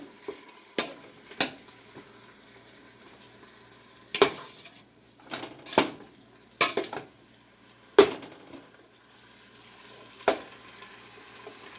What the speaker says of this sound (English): Just going to chop the meat up a little